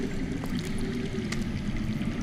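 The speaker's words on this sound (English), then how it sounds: "That's water. I hear water. From underground." Water flowing underground in the Game of Thrones Telltale game, a continuous low gurgling stream with a few faint ticks and clicks on top, steady and fairly close throughout.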